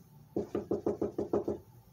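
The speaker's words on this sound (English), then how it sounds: "Someone's knocking at the door." Eight quick, evenly spaced knocks on a door, moderately loud and close, with quiet before and after.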